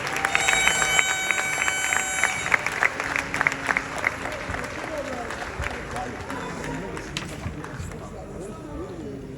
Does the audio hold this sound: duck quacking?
no